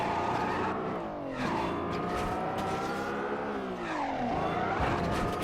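A race car in Midnight Club 2 drives a Paris circuit, engine note rising and falling steadily with gear shifts, close and loud throughout, with scraping knocks as it bounces off walls.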